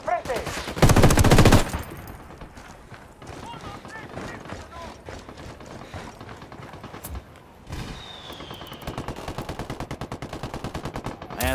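Gunfire in the tactical shooter Ghost Recon Wildlands: a dense, loud burst of automatic fire near the start, followed by scattered shots and game sounds, with a rapid run of repeated shots near the end.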